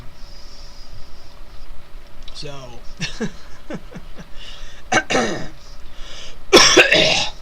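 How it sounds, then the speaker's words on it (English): A person clears their throat several times with short gravelly rasps, close by, over a steady low background hum. "clear my throat, excuse me"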